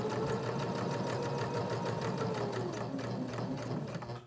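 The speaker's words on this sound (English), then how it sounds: "We're going to back stitch just a little bit, and then we're going to continue on." Sewing machine stitching fabric for a beginner pocket fidget, with a rapid, even mechanical whir and tapping needle rhythm throughout. It is close and steady, then slows at the very end.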